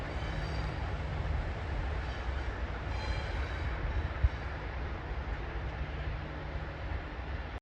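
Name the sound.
ALCO FPA diesel locomotives drifting downgrade on snowy rails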